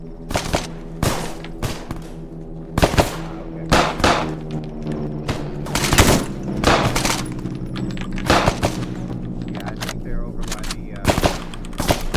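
Automatic and rapid gunfire on a shooting range in a military video game, bursts and single sharp shots cracking repeatedly across the span over a steady hum, with faint voices in the background.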